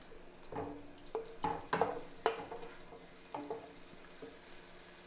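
Chopped onions frying over a high flame in a pot, with intermittent bursts of sizzling and stirring clatter over a soft steady background, close and moderately quiet.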